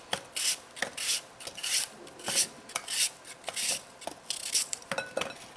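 Apples being peeled and thinly sliced for an apple crisp: a string of short, scraping rasps and knife strokes, close and fairly quiet, coming in a steady, uneven rhythm with no talking.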